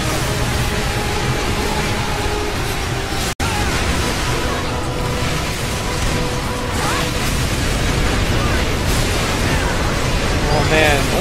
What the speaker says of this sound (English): All I hear are explosions and stuff.